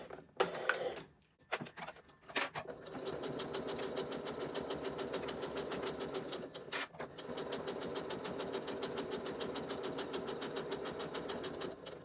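A domestic sewing machine stitching fabric scraps together, opening with a few clicks and handling knocks before settling into a steady, close, fast mechanical whirring, briefly interrupted by a single clack, then resuming.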